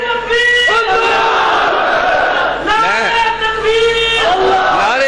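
A religious gathering's crowd chants a slogan in loud unison, two strong surges of massed voices separated by a brief dip, close and dense, with no solo speech between.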